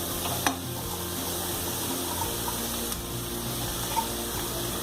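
Fenugreek leaves are added to onions frying in a pan. A soft, continuous sizzle runs under occasional light clinks and stirring scrapes, and there is no talk.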